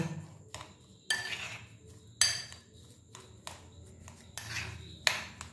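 Boiled potato mixed with Maggi spice mix in a bowl, heard as a spoon scraping and clinking against the bowl at irregular intervals, close and moderately loud, with soft squelching between strikes.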